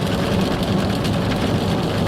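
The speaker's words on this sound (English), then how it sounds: "hopefully you guys can hear me with this rain that we've got" Steady rain drums on a 2026 supercharged Ford F-150 pickup, heard from inside as a constant, fairly loud hiss and patter with no voices.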